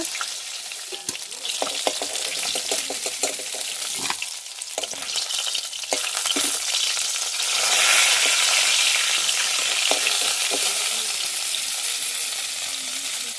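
Fish frying in hot oil gives a steady, loud broadband sizzle for the whole stretch, swelling slightly midway, with scattered pops and occasional clinks of a utensil lifting pieces out, and no talking.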